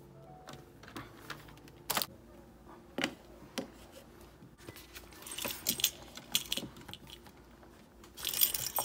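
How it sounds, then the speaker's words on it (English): Cash being pulled from paper budget envelopes, with crisp papery rustles and a few sharp snaps of bills, quiet and close, growing busier toward the end. "let's just go ahead and start unstuffing my envelopes"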